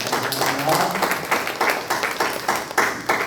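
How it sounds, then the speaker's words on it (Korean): Church congregation applauding during a Korean worship service, a steady wash of many hands clapping at moderate loudness with some talk and voices mixed in throughout. "우리 모든 배우들에게 박수로 격려해드리겠습니다"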